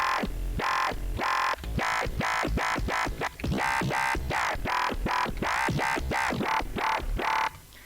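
A synthesized bass made in Serum, without effects, growls in continuous wobbling pulses, loud and gritty, with rapidly shifting tone and no voices.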